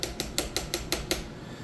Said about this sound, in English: We're going to give this one quick stir before we add in our final seasonings and our meat.